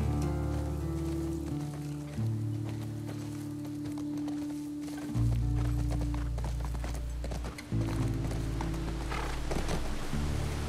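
A horse's hooves clop in a steady running rhythm in The Last Of Us Part 2, laid under a sustained droning music bed that shifts pitch a couple of times, and no voices are heard.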